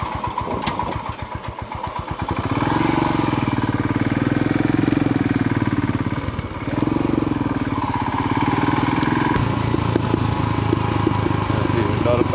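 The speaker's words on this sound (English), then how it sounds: "There's a lot of backfire now." A motorcycle engine idles unevenly after a carburetor screw adjustment, starting with rapid putters and settling into a loud, throbbing rumble with irregular pops and dips, with a voice speaking briefly.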